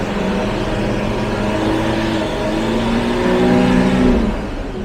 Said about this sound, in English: Just want to put it in drive and just give it a little bit of gas.